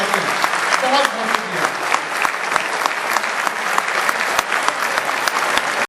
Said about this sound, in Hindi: इस छत को फाड़ दीजिए तालियों से